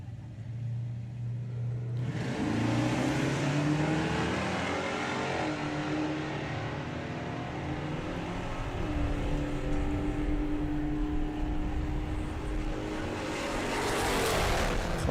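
A drag racing truck and car launch and run down the strip at a sportsman event, a loud sustained engine roar that builds after a quieter start and stays strong, with crowd and track ambience underneath.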